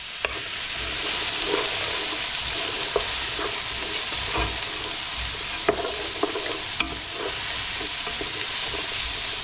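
Onions frying in a large pot for a Durban-style beef curry cooked for 30 people: a loud, steady close sizzle with occasional stirring clicks and scrapes throughout.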